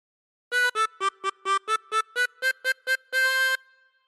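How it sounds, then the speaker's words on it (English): Tune of 99 Bottles of Beer on the Wall played on a 16-hole tremolo harmonica: a quick run of about a dozen short reedy notes with a wavering tremolo, ending on a longer held note, clear and alone. "practice this until you end up with something that sounds like this"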